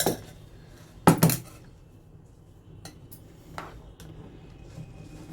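Utensils clink against a dish as hot raw-mango gudamba is served, a sharp loud cluster of clatter near the start followed by a few lighter scattered taps in a quiet kitchen.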